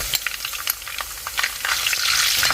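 Green chili and ginger frying in hot oil after mustard seeds have popped, a bright crackling sizzle with quick stirring clicks, growing denser and more hissing toward the end, close up and without speech.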